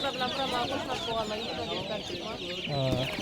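Many chickens clucking and squawking together at a busy, crowded poultry market, with a rooster-like call near the end.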